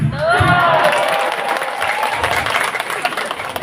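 Large crowd at a haul and grand reunion gathering of an Islamic boarding school bursts into loud applause with some cheering, as a voice speaks over the start and the clapping gradually eases.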